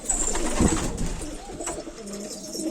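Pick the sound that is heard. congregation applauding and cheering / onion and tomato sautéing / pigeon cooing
pigeon cooing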